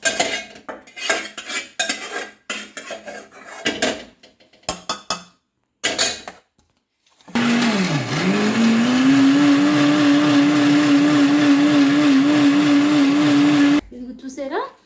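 A mixer grinder whirs loudly for several seconds, grinding sesame seeds and spices into a paste, after a stretch of clinking and scraping kitchen sounds, ending abruptly.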